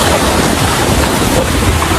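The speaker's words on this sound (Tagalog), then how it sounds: "Ang lakas ng alon, ang lakas ng agos, maingay yung dagat." Strong ocean waves surge and crash onto an underrated beach in Quezon Province, a loud, continuous roar of surf with wind buffeting the microphone throughout.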